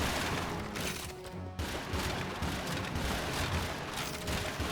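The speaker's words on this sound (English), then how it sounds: "Let's get a little swarm missile action." Swarm missiles firing in the video game Cubed And Dangerous: dense, continuous bursts of explosive booms and crackling launches. A brief dip in the barrage comes just past the first second, then the volley resumes loud and sustained.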